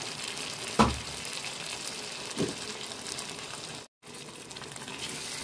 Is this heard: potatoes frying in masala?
yes